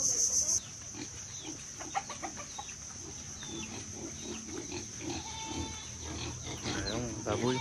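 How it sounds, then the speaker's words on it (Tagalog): Pigs grunt and snort in a noisy farmyard in Cauayan, Negros Occidental, mixed with chickens clucking and ducks nearby, under a high steady hiss, with some voices in the background. "Ayun, baboy."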